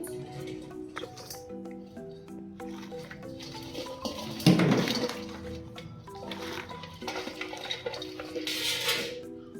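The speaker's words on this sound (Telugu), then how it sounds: "మనం ముందుగా రెడీ చేసి పెట్టుకున్న ఈ పచ్చిమిర్చిని అయితే దీంట్లో వేసేసుకుందామండి" Green chillies are dropped into a buttermilk mixture in a bowl, with clinks and clatters of dishes and utensils, one louder knock near the middle, all fairly close.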